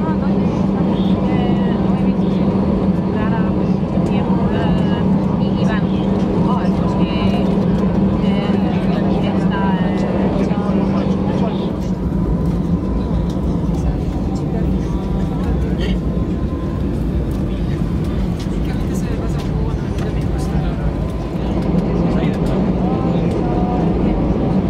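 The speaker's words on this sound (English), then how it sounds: "engines are up and running, and off we go" A Vueling Airbus A320-200's engines run up for takeoff at Alicante Airport, a steady loud cabin roar and rumble that holds throughout, with a voice talking over it.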